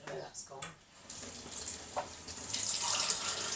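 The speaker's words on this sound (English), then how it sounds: "I'm going to use hot water at the tap" Hot water running from a kitchen tap into a sink, a soft hissing splashing stream that starts faintly and grows steadier and louder, close by with no talk.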